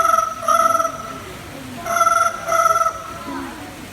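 A bird at a bird park in Singapore mimics a telephone ringing, giving two pairs of loud, bright, trilling electronic-style rings separated by a pause, with faint talk in the background.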